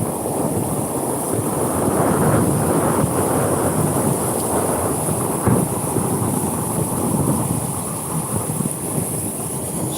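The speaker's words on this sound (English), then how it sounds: "She's a little breezy today. The wind definitely picked up." Strong wind roars across open water on a fishing lake during a tournament day, a loud, steady buffeting rush with heavy low rumble hitting the microphone for the full stretch, with no voices.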